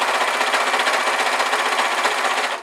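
A sewing machine stitches fleece for a beanie hat, giving a loud, close, continuous buzzing whir with a fast, even pulse that stops abruptly at the end.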